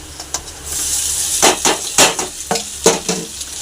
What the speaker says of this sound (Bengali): এবার ভালো করে আমি এটাকে কষিয়ে নেব